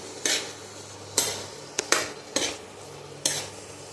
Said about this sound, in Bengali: তো আলু আর চানাকে এবারে মিক্স করে নিচ্ছি।